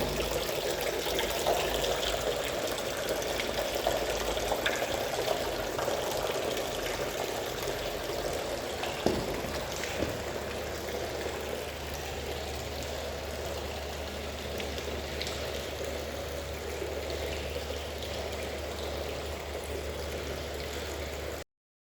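Mineral spring water bubbling steadily inside a deep well-like spring shaft, a continuous soft wash of bubbling and trickling with a low steady hum underneath, moderately close and without voices.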